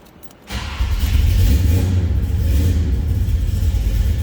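A 1971 Chevrolet Malibu convertible with a 383 V8 cold-starts after a brief quiet moment, catching with a loud burst and settling into a deep, steady rumbling idle close by.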